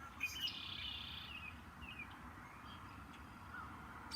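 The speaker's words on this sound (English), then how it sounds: "I have a lot of bird sounds around me," Birds chirping and calling outdoors at a distance, faint high tweets scattered over a soft steady background.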